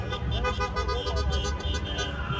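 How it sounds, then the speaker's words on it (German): Car horns toot repeatedly amid street celebrations in Berlin after Spain wins the European Championship, mixed with crowd noise and traffic rumble, continuous and fairly loud throughout. "Aber wer hupt denn hier in den Autos?"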